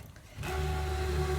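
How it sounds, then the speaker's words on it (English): Brother ScanNCut cutting machine testing the media on its mat: a loud, steady mechanical whir with a sustained tonal hum that starts after a brief quiet moment and keeps running at an even level. "This is the noisiest part of this machine. It's testing the media that's on my mat."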